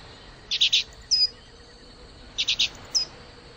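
Bird chirping in the adventure game The Book of Unwritten Tales, two clusters of quick bright chirps, three rapid notes then a single one, repeated twice over a quiet background.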